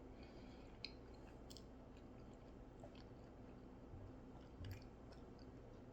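Faint, close chewing of a bacon-wrapped hot dog with mustard, soft wet squishing and a couple of tiny crunches over steady low background hiss.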